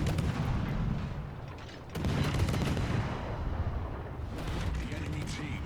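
Naval gunfire in World of Warships, with the heavy booms of a Harugumo destroyer's guns exchanging fire with ships including a Hindenburg cruiser, rumbling in repeated broad bursts over constant battle noise.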